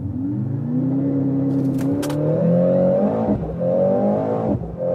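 A Mercedes C63 S AMG launches from a race start on a track, its engine note rising loud and close through the gears with a brief shift break.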